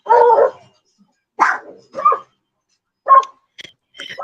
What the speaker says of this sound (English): They sound as bad as my chihuahuas.